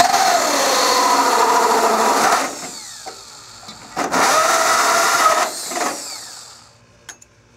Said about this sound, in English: and we're going to continue drilling.